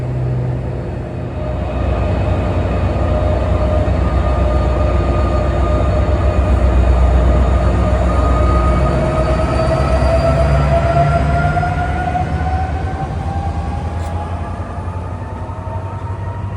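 An NJ Transit train hauled by a PL42 diesel locomotive, running as a Philadelphia Eagles football special, rumbles past loudly for the whole stretch, with a deep engine drone, rolling wheel noise and rising whining tones.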